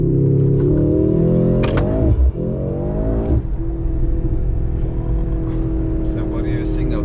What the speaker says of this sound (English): We're going to do a race start now.